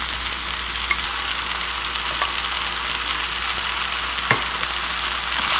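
Spaghetti tossed with shrimp and beef in a small frying pan, a strong steady sizzle with occasional stirring scrapes and a clunk, heard close and without voices.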